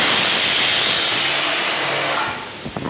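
A pressure cooker cooking rice lets out a loud, continuous steam hiss that stops abruptly near the end, followed by a few small clicks and knocks.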